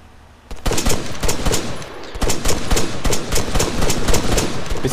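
Gunfire in an Altis Life game session: after a brief quiet moment, loud rapid bursts of automatic shots rattle on almost continuously, close and harsh.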